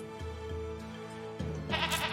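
Goats in the Anno 1800 video game bleat in a few short, wavering calls over a soft musical background, moderately quiet, with no talking.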